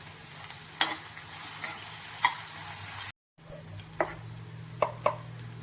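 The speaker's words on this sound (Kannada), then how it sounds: "ಕರಿಬೇವು ಹಾಕ್ತಿದ್ದೀನಿ." Curry leaves and onion fry in hot oil for a Junka recipe, with a steady close sizzle broken by sharp crackles and occasional clicks of a spoon stirring the pan.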